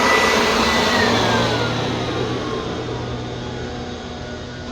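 A WORX Trivac 3-in-1 electric leaf blower/mulcher running in vacuum mode over raked leaves: a loud, steady motor whine and rushing airflow with a faint pitch drift, close and continuous without speech.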